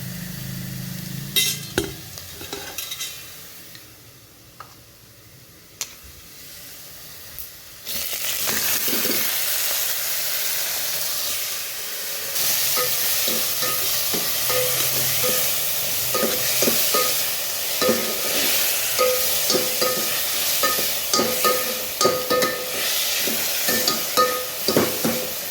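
Horse gram tossed into hot oil for a village-style sambar: a quieter start with a few clinks, then a loud, steady sizzle and frying hiss with stirring scrapes that continues to the end.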